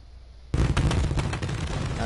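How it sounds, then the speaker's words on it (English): A fireworks burst in WWE 2K22 breaks in sharply after a quiet start, then continues as a dense run of loud crackling pops and booms until the end. "Now we got our fireworks to see our 1980s VHS."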